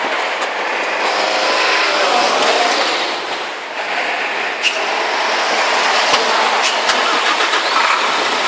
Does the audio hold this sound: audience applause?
no